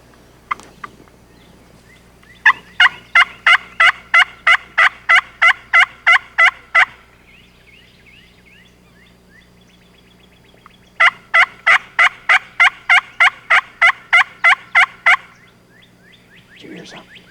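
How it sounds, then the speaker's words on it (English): Two wild turkey gobblers gobble in a spring field, each bout a long run of about a dozen rapid, loud, rolling calls, repeated twice with a quiet gap between, no talking. "There's two gobblers gobbling pretty good right here"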